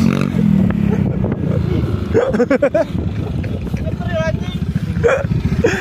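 A motorcycle on a long touring ride from Bogor to Bromo, a loud engine droning and throttling up close, with people talking over it.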